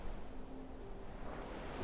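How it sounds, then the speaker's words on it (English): Ocean waves break and wash on a shore as a steady, soft roar of surf, fairly faint and distant, with some wind noise and no voices. "the crashing of waves"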